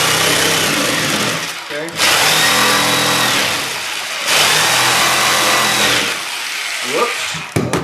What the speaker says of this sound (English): I can get the jigsaw down there. So I'm going to cut.